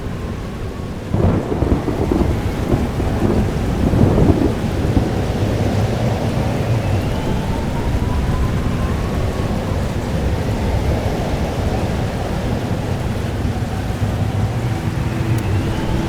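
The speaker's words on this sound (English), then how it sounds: "But there wasn't a storm the day Safi died" A thunderstorm with heavy rain in the video game Life is Strange: Double Exposure, loud low thunder rumbling and rolling through a constant downpour, with no voices.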